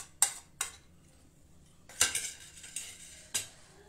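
Ground spices, including asafoetida, roasted cumin, garam masala, red chilli and chaat masala, being stirred and mixed in a home kitchen, with a few sharp spoon clinks against a bowl spread across quiet pauses.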